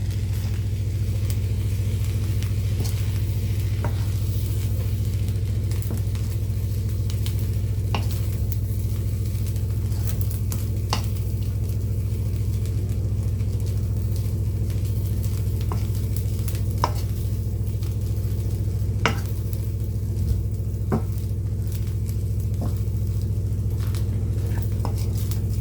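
Beef, sausage and shrimp fry in a pan for fried rice while being stirred, giving a steady loud sizzle under repeated scraping and clinking of the utensil against the pan, with no talking.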